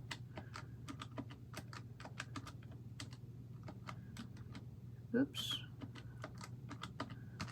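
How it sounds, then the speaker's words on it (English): Long fingernails tap the keys of a calculator in quick, uneven clicks close to the microphone, with a brief spoken word partway through over a low background hum. "One thing that's hard with these nails is typing on this calculator."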